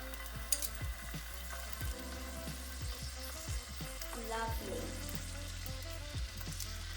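Marinated chicken drumsticks for chicken adobo sizzling and frying in a hot pan, a steady crackling hiss with occasional stirring and tong clicks, close up; a voice speaks briefly.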